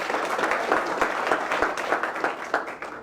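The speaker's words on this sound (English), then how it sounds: "a round of applause for Gail." Audience applause at a borough council meeting, a room of people clapping steadily and moderately loud, the sound holding evenly and thinning slightly toward the end with no talking.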